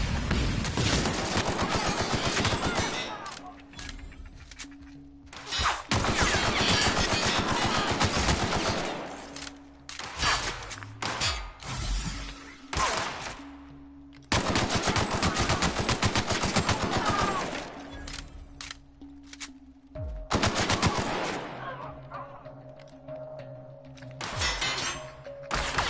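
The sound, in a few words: gunfire in the video game The Outer Worlds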